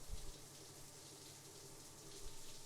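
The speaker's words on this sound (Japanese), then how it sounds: "シャワー使わせてもらいますね。" A shower runs with a steady, soft hiss of spraying water that carries on without a break, faint and even, with no voices.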